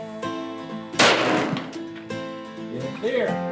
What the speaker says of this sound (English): I shot 1 bullet.